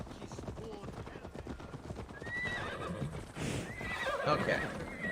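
Horse in a video game whinnies several times with high, wavering cries over a running clip-clop of hooves, getting louder and busier toward the end, with faint talk in the background.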